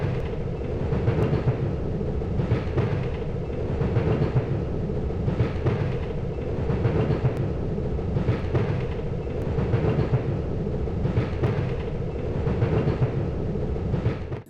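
Train ride in a PS1 horror video game, a continuous rumbling rail drone with regular clickety-clack beats repeating throughout, steady and fairly loud with no voices.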